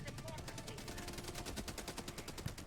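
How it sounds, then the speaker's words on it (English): Dense automatic gunfire rattles without pause in the video game Helldivers 2, a rapid, even stream of shots packed together with overlapping weapons firing throughout. "The amount of just bullets in the sky is absolutely crazy."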